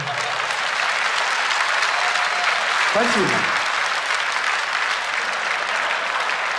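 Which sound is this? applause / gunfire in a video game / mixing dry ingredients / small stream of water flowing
applause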